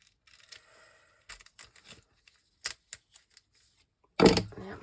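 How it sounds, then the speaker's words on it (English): Scissors snip through card for a shaker card craft, a few short, separate cuts at close range with quiet gaps, ending in a louder rustle of handled paper. "So I'm going to cut this down a little bit."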